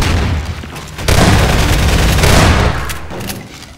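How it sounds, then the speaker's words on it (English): Loud rocket launcher blasts in the Half-Life 2: Deathmatch shooter, a booming explosion that swells suddenly, then rumbles and fades, with sharp gunfire pops mixed in. "Oh crap, they got the rocket launcher."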